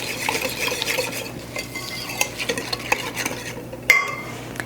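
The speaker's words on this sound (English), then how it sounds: "Now we'll mix these in with the wet ingredients." Wheat bran and old-fashioned rolled oats being stirred into wet muffin batter in a bowl, giving a steady close scraping and swishing with light utensil clinks and a sharper knock near the end.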